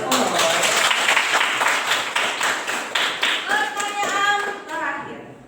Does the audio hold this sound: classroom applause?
yes